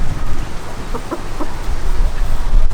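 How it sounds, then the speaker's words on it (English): Ancona bantam rose comb chickens, a blue mottled rooster with black mottled hens in a large aviary, giving a few soft clucks over a steady background noise. "So the blue mottled rooster with 4 black mottled hens."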